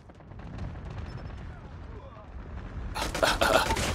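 Gunfire in Call of Duty Mobile breaks out near the end as a dense burst of loud, sharp shots, following a stretch of quieter game ambience and a voice talking throughout.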